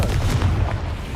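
An explosion from the Confringo fire spell in the video game Hogwarts Legacy, a dense, booming low roar with rumbling bursts that carry on for over a second, loud and continuous with no talk.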